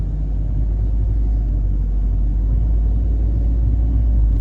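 A car drives through a residential neighborhood of large homes in Wayzata, Minnesota, with a steady, loud low engine and road rumble throughout and no talking.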